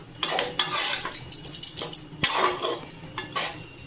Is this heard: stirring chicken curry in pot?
yes